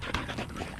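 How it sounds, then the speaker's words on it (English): Puppies pant in quick, breathy bursts close by, a soft rapid rhythm of short huffs with no talking. "Look at puppies. So much puppies."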